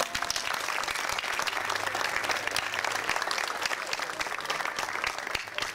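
A crowd applauds steadily at a primary school graduation ceremony in Barranco, a dense, even patter of many hands that holds for the whole stretch without letting up.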